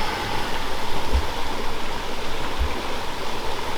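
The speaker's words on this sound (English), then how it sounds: "And the creek is well up." A swollen creek runs high after tropical rain, giving a loud, steady rush of water that fills the scene with no talking and two faint low thumps along the way.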